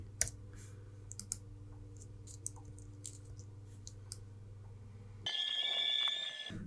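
Computer keyboard keys are pressed in a sparse, irregular series of sharp close clicks over a low steady hum, and a brighter ringing tone rises near the end.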